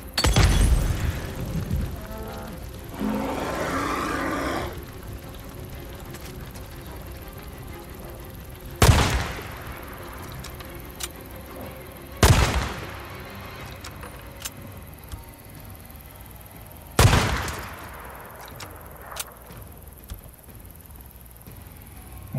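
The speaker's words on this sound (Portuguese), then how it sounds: "Utilizar essa sniper agora aqui em cima pra dar ali tiro nesse urso até ele morrer" Sniper rifle fire at a bear in the video game Days Gone: three sharp, loud single shots spaced several seconds apart over a rumbling ambient game background.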